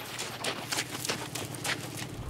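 Horse hooves clip-clop in a steady rhythm at moderate distance, a faint, even trotting pattern heard alone with no talk.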